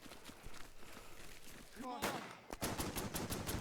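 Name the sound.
gunfire in trench fighting, video game Burden of Command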